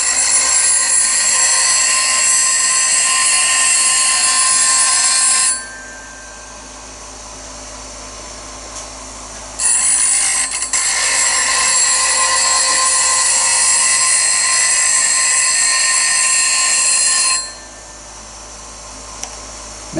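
A bench grinder sharpens a steel rod scraper in two loud, high-pitched whining bursts, each lasting several seconds and separated by a short quiet gap.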